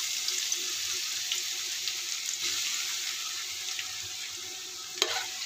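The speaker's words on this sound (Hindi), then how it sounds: "जैसे ऑयल गरम हो जाए इसमें आप आलू डाल दीजिए" Potatoes fry in hot peanut oil in a kadai, giving a steady, even sizzling hiss throughout with one brief clink near the end; no talking.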